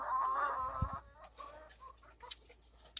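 Chickens cluck in a backyard flock of laying hens, with a louder burst of clucking at the start and then softer scattered clucks and bird calls fading through the rest, close by with no talk.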